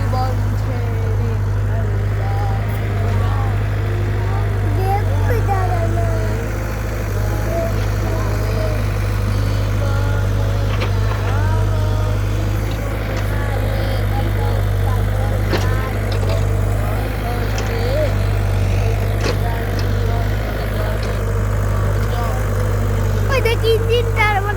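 A close engine idles steadily through the whole stretch, a low, even rumble with no revving, and voices come and go faintly over it.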